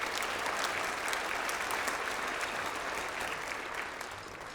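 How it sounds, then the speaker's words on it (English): An audience claps steadily at a school band concert, the dense, even applause filling the hall for several seconds before easing off slightly toward the end. "so give them a round of applause"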